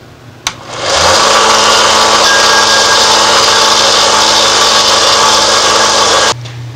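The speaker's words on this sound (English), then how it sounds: "Use a disc sander plane and adjust it to a 30-degree angle." A disc sander set to a 30-degree angle grinds a bevel onto homemade lightsaber couplings, spinning up with a click and a steady loud whine that runs unbroken for about five seconds before cutting off.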